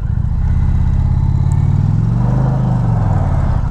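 Loud, close motorcycle engine under throttle as the rear wheel spins and traction control cuts power, giving a steady rumble with a rising and falling pitch swell partway through.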